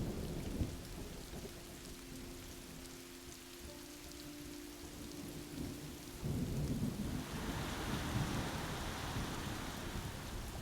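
Rain falls steadily in the video game Road 96 under rolling low thunder, a soft hiss that swells louder partway through, with no voices.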